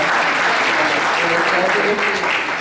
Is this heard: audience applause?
yes